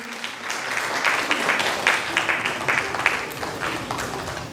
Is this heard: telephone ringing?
no